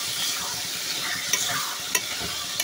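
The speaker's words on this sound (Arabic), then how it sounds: "هننزل بالطماطم والفلفل، وزي ما قلت لك مش عايزاها حراقه يبقى استغنى عن الفلفل. نقلبي بقى بالراحه كده" Tomatoes and peppers stirred in a frying pan, a steady close sizzle with a few sharp utensil scrapes and taps against the pan, no voices.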